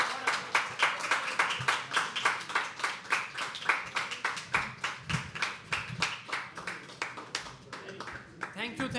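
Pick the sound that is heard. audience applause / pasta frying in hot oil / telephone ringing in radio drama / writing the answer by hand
audience applause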